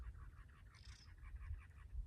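Wrens in a desert setting give a run of harsh, raucous calls, a steady series of rasping notes over low rumbling background noise, moderately close but fairly quiet.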